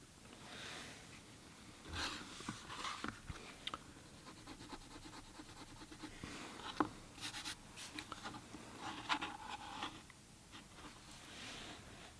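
A pencil scratches light lines along a ruler for a watercolor menorah drawing, in soft, faint strokes that come in several short bursts with pauses between them.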